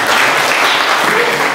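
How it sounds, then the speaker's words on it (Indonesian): A dense burst of audience applause at a talk event, loud and close, the steady clapping filling the short moment. "Kita berikan tepuk tangan dulu."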